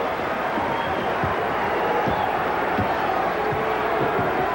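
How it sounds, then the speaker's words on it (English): A packed arena crowd roars continuously at the Forum during a 1983 Seattle SuperSonics at Los Angeles Lakers basketball game, a dense, loud, steady wash of cheering with scattered thumps beneath it. "crowd raising the roof"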